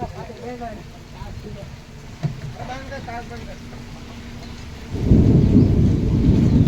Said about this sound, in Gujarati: વરસાદ ભાઈ જામ્યો હે વરસાદ ચાલુ થઈ ગયો